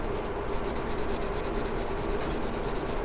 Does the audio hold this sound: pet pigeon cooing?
no